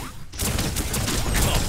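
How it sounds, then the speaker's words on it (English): An explosive barrel in Biomutant is shot and bursts into a loud, sustained blast with crackling debris that rings on for over a second after a brief lull. "Shoot it and watch it blow."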